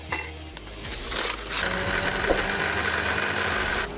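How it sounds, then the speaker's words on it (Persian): A grinder whirs as it crushes biscuits for a cantaloupe dessert, the motor running steadily for a few seconds after short bursts and rattling, close and moderately loud with no talk. "بریم که این بیسکویت ها رو اول آسیاب کنه."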